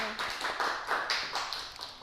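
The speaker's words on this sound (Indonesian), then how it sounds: "tepuk tangan untuk Mbak Afnia" Classmates clap for a student after her microteaching presentation, a modest group of hands producing uneven bursts of applause that swell and fade over a couple of seconds, fairly quiet and close.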